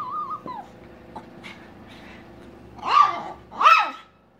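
A hungry female dog whimpers softly at dinner time, then gives two loud close barks near the end, with no one speaking.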